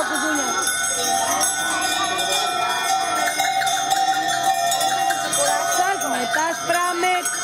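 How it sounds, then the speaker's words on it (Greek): Large bells ring in a steady, clanging jangle during the Greek Lazarus songs custom, layered with group singing and voices close by throughout. "Πάρ' τα μεγάλα κουδούνια."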